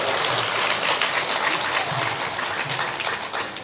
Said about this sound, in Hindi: ताली ऊपर ऊपर बजा कर दिखाओ